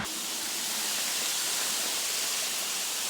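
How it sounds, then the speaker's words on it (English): Dense, steady roar of heavy rain pouring down on a 4x4 Mitsubishi Express camper van, loud and unbroken throughout with no voices. "it is absolutely throwing it down raining"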